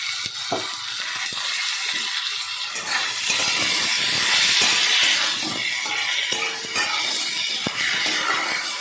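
Eggplant pieces hit hot spice paste in a pan for a Bengali small-fish curry, giving a continuous close hiss and sizzle dotted with small crackles and pops.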